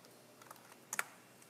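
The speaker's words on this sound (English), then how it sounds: "So let's type in revolve" Light key clicks on a computer keyboard as a command is typed into Rhino 3D modeling software, a brief quiet burst of taps with a sharper pair near the middle, close and faint with no talking.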